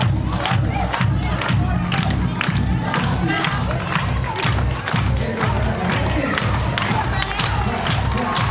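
A crowd at a dance event yells and cheers loudly over thumping, rhythmic music, with steady beats and voices shouting throughout, dense and close.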